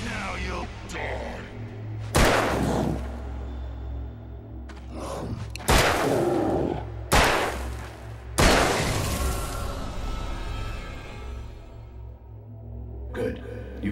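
Several loud gunshots ring out in Alan Wake, a horror game on the Xbox 360, as broadband bursts spaced a few seconds apart over a low, droning ambient background.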